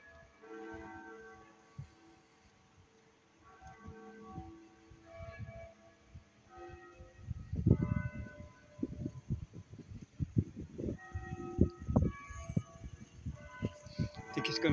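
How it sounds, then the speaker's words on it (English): Church bells ring out in a northern England market town, their layered tones carrying through the open air over voices and street bustle that grow busier partway through. "You can hear the bells."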